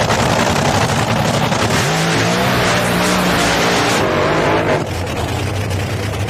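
Nitro funny cars roar down a drag strip at night, a loud, continuous, raw engine blast that fills the clip, easing slightly near the end as the run fades.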